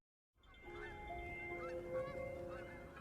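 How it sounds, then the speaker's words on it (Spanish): Snow geese honk repeatedly in a busy flock, overlapping calls rising and falling against steady outdoor background noise. "Una pareja de gansos blancos debe proteger sus vulnerables huevos."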